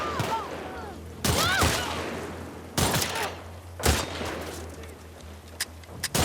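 Gunfire from The Last of Us Part II video game: several loud, close bursts of shots in quick succession, separated by brief pauses, with faint tonal game sounds early on.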